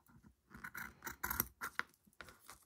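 Scissors cut small pieces of fabric for a doll-house dress, with quiet, close snips and soft scraping in an irregular cutting rhythm.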